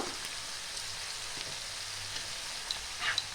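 Spices with salt, turmeric and dried chilli fry in a pan over medium to low flame, giving a steady soft hiss of sizzling oil with a few faint stirring clicks near the end.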